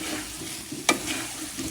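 Potatoes sautéing with spices in a pan for an egg and potato curry, a soft steady sizzle with one brief sharp clink of a utensil midway.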